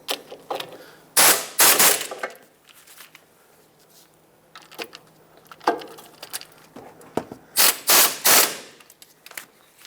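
Wheel hub assembly bolts on a 2014-2021 Mazda 6 torqued down to 90 foot-pounds, with sharp, close ratcheting bursts and clicks in irregular clusters and quiet gaps between.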